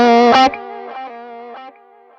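An electric guitar lead played through a Morgan amp simulation with tape delay in ping-pong mode: a loud, distorted phrase of a few notes, then softer repeating echoes ringing out and decaying alone.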